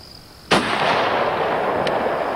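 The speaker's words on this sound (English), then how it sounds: "let's shoot the target over here with our soft nose bullet." A single sharp, loud gunshot from a handgun firing a soft nose bullet into a target, an abrupt crack followed by a long decaying reverberant tail and a faint second tick near the end.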